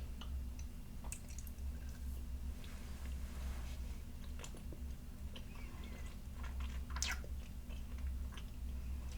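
Close, soft chewing of gummy worms, moist squishy bites and sticky smacks scattered over a steady low hum, quiet and intimate with no talking.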